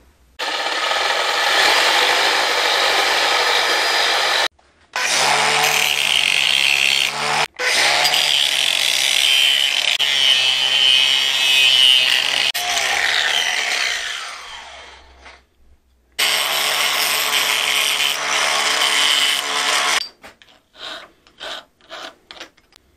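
Hand-grinding a shape, a loud steady rasping and rubbing in long continuous strokes broken by brief pauses, with a quieter stretch of short scrapes at the end.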